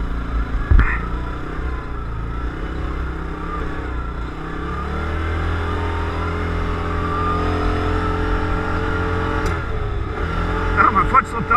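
A Yamaha Rhino 700 UTV engine runs on a trail, a steady mid-pitched drone that rises gradually, dips, then revs again near the end, with someone talking at times over it.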